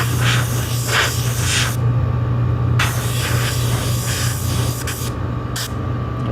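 An airbrush sprays red base-coat paint onto a ball helmet in close, loud hissing bursts that stop and start, with a steady compressor hum running beneath.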